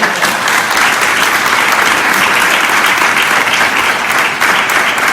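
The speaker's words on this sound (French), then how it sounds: "On peut l'applaudir." A church congregation applauds, dense and even clapping that stays steady for about five seconds with no speech over it.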